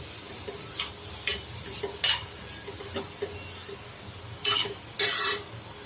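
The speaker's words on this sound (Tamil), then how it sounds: "இந்த நெய்யிலே தேங்காய் ஒரு 2 நிமிஷம் நல்லா வசங்கட்டும்." Grated coconut roasting in ghee in a pan, a quiet sizzle with repeated scraping strokes of a spoon against the pan, two louder bursts of stirring near the end.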